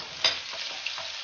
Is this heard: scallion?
yes